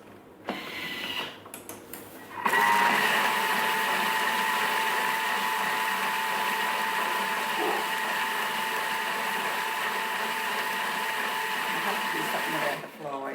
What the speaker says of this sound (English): we're going to stir it 10 seconds, speed 4 on reverse